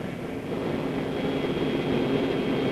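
B-29 bomber climbing toward bombing altitude, its engines making a steady, dense, loud drone with no breaks.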